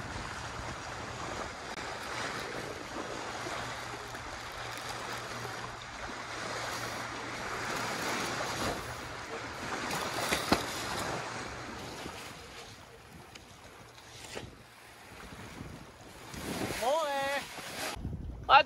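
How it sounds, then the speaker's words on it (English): Steady wind and water wash around a sailboat in light air of about 4 to 6 knots, a continuous broadband rush with slight swells in level and a faint low hum beneath, with no talk. "Bring on the wind. It's 6 knots now, maybe 5, 4."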